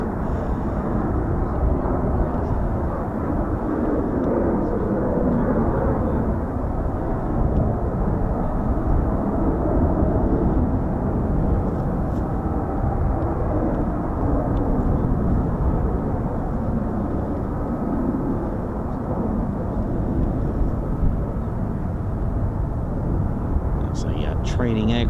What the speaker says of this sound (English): Doing a touch and go here at Marham.